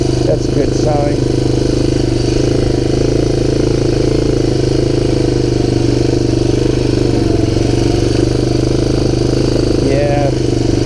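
A Honda TRX250 ATV engine drones steadily and loudly while being ridden, a continuous close mechanical rumble with no clear revving, and a voice talks over it.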